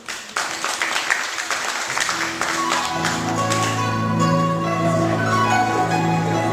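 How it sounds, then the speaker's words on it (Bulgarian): A crowd applauds at an MMA club sports show in Polski Trambesh, the clapping filling the first couple of seconds before giving way to steady music with sustained tones. "И така овации за Дитко."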